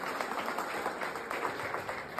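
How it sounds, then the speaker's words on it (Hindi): Audience applause at an outdoor music event in Gorakhpur, a steady patter of many hands clapping, fairly quiet and distant, continuing evenly throughout. "तालियों का समर्थन चाहूंगा।"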